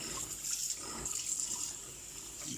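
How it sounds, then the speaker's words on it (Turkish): Hot water running from a kitchen tap while waiting for it to heat before sterilising jam jars, a steady hissing stream with faint splashing, close and quiet, continuous with no talk. "O yüzden kaynar su gelinceye kadar musluktan bekliyorum."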